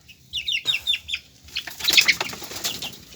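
Lemon sweater gamefowl chickens flap their wings in a pen, a burst of several quick wingbeats joined by a chorus of chirps and clucks, fairly close.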